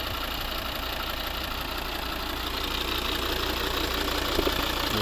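A 2010 Volvo XC60 2.4 D3 five-cylinder diesel engine idling steadily with a low, even rumble and faint rhythmic knock, constant throughout at moderate level with no talking.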